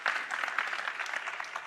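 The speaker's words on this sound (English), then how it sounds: "I think these 2 announcements deserve a round of applause." Audience applause at an NYU Abu Dhabi business event, a steady wash of many hands clapping at moderate distance, fairly soft and continuous without voices.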